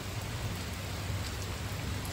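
Steady rain falling in Hyderabad during the monsoon season, a continuous even hiss of moderate loudness with no pauses and no voices.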